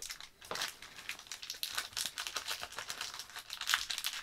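A foil wrapper on a Pokémon trading card pack from a Professor Juniper Premium Tournament Collection is torn open. Close, crinkly rustles and crackles come in quick irregular bursts, fairly quiet, with no voices.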